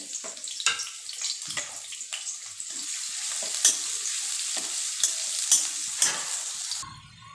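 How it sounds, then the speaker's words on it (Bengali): Chopped medium-sized onion fries in oil with a small bay leaf in a wok, giving a constant bright sizzle broken by regular scraping stirs, close and fairly loud. "পেঁয়াজটাকে একটু ভাজা ভাজা করে নিলাম"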